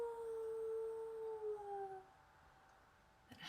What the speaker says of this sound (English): I think the wolves might be trying to talk to you from that howling.